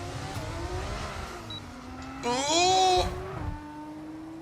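A Formula 1 race car in the F1 25 video game revs hard, its engine tone climbing and falling in steady pitch sweeps, loudest in a brief burst midway, while a person exclaims and talks over it.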